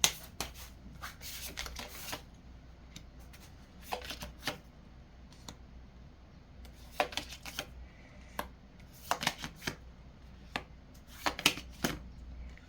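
Tarot cards being shuffled and drawn for a reading, with soft riffling bursts and crisp card snaps spaced irregularly, recorded close up in a quiet room.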